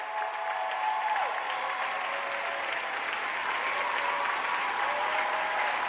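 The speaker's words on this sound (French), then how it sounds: "On peut applaudir encore très fort, s'il vous plaît." Sustained applause from a crowd at a televised show opening, following a performance by the Baraka Kids dance group, steady and full throughout with faint tonal music lines beneath.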